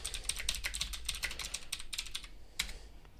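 Rapid typing on a computer keyboard, a steady run of crisp, close keystrokes with a final harder tap near the end, no talking.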